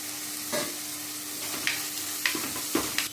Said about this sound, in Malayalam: വെളിച്ചെണ്ണ ചൂടായത് ഞാൻ വലിയ സവാള ഞാൻ ഒരെണ്ണം നല്ല ചെറുതായിട്ട് മുറിച്ച് ചേർത്തിട്ടുണ്ട്